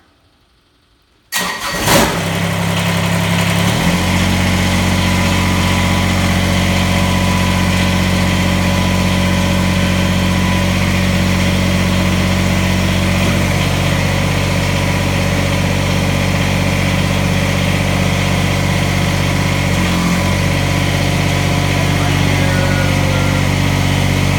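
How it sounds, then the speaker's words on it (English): Kubota BX tractor loader engine cranks and fires after a brief quiet moment, then settles into a steady close, loud idle rumble that runs on alone. "I'll fire the machine up so you can see how it looks and functions."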